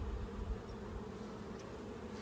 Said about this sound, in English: Now we're starting to get into bees.